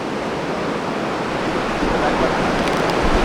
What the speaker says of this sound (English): Waves pouring down the point.